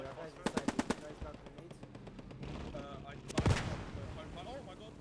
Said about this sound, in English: is that the Panzer turret in the south? Fired the wrong ammo type though.